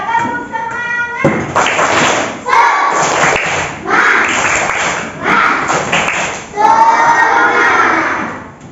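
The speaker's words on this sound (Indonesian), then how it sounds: "Coba tepuk semangat." Classroom of elementary school children doing a rhythmic spirit clap, loud bursts of patterned clapping and thumping with excited voices shouting along in between.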